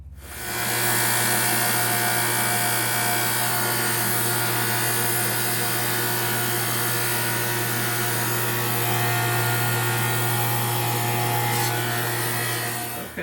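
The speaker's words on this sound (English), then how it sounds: "we sanded the sides on the drum sander" A drum sander runs wooden acoustic guitar sides through for thinning before bending, a loud, steady motor drone with a constant abrasive rushing hiss that holds for the whole stretch, with no voices.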